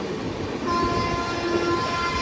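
The Garib Rath express, running between Kurnool and Yesvantpur, gives off a steady, loud rumble of rolling wheels, with a sustained horn-like tone rising through it.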